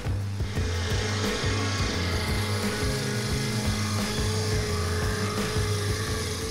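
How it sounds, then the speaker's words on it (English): An Erskine high-flow stump grinder mounted on a T770 compact track loader grinds a tree stump, a loud, steady mechanical roar with a pulsing low engine drone and constant chattering grit, continuous throughout with no talk. "the T770 compact track loader combined with the high-flow Erskine stump grinder"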